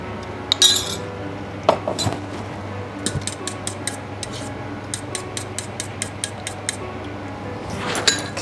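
A utensil clinks rapidly against a bowl while steamed egg mixture is stirred with light soy sauce, giving bursts of close, bright ticking taps that run in a quick steady rhythm for several seconds.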